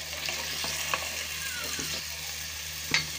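Ginger, garlic and whole coriander are stir-fried on high heat for mutton kaleji, a soft continuous sizzle broken by a few sharp spoon scrapes and taps against the pan.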